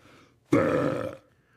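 A single loud, close burp lasts about two-thirds of a second, sounding rough and throaty, with near silence before and after.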